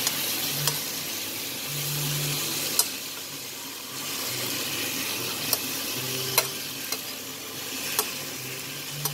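Potatoes, eggs and peas stirred with spices in a pan for a curry, with a soft background sizzle, a low hum, and occasional sharp spoon taps and clinks against the pan, no voices.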